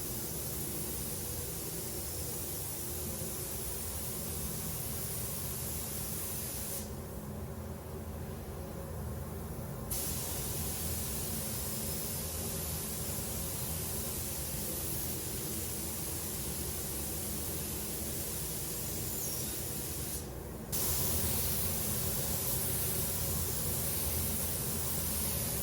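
A spray gun applies clear coat 2-pack lacquer to the alloy wheels of a Porsche 928 GT in a steady, close hiss that is nearly continuous, with two brief pauses in the spraying.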